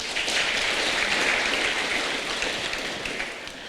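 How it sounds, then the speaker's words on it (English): An audience at a public speech in Kenya claps steadily, a dense, continuous roar of many hands that holds strong and then eases slightly toward the end. "You can clap for yourself."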